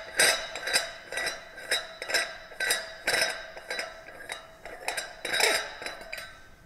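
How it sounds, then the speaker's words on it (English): A metal protective cap is unscrewed from a compressed gas cylinder, making a steady series of light metallic clinks and ticks, close up and evenly spaced, with no talking. "But we'll unscrew the protective cap here."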